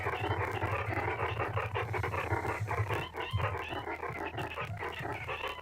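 A dog pants and whimpers steadily close to the mic in an indoor setting, a continuous breathy rhythm with soft yips rather than clear barks, and no talking over it.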